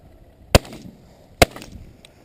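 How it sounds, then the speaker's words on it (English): Two sharp shotgun blasts ring out during an outdoor chukar hunt, spaced under a second apart, loud and close with brief echoing tails. "Got a double shot on that"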